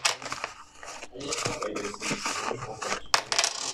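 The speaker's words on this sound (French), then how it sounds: "je vais enlever les pièces parce que pareil, ça me fait vraiment trop de pièces" Coins are pulled out of paper budget envelopes: close metallic clinks and jingles mixed with paper rustling and crinkling in quick bursts, with a brighter coin clatter near the end.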